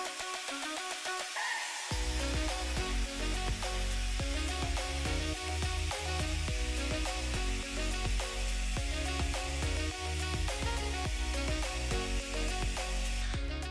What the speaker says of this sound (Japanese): 根元を少し持ち上げながら下から上にドライヤーを当てていきます。